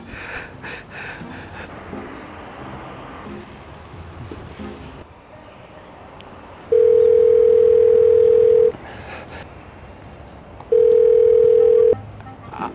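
A telephone line gives two long, steady dial-tone beeps separated by a pause, loud and close, with breathing and faint rustling between them.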